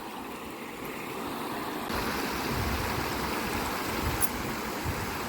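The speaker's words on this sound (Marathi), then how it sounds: "आवाजावरूनच कळत असेल तुम्हाला पाण्याचं स्पीड" Fast-flowing village stream water rushes steadily and loudly throughout, a dense continuous roar that swells slightly partway through, with no voices.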